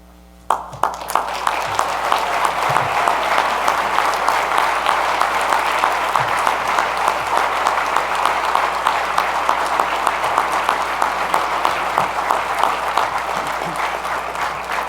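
Warm applause from a luncheon audience at a Saints Hall of Fame induction, starting after a brief hush and holding steady as a dense round of clapping for about fifteen seconds.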